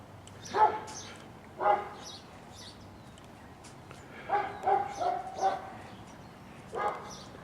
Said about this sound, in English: the dog in the background